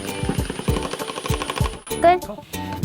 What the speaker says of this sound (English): an impact driver bangs on the screw to help it go in